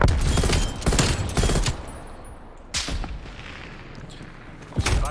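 A frag grenade in the Call of Duty Cold War multiplayer game, heard as loud, close gunfire bursts and explosive booms that trail off into rumble, followed by a quieter stretch and another sharp blast near the end.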